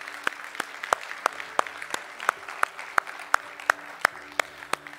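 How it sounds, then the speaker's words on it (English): A church congregation applauds with sparse, sharp claps at a steady rhythm, each distinct and fairly close, over a soft room murmur. "Can we just applaud those three who received?"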